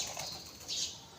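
A dove fighting with pigeons beats its wings in a short, soft flurry of flapping that rises briefly and then fades. There are no voices.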